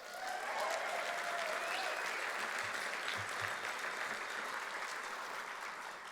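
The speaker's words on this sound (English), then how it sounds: "How about a round of applause for Celine Rodriguez?" Sustained audience applause fills a keynote lunch at the Texas Policy Summit, a dense steady wash of many hands clapping at even loudness for several seconds with no voices on top.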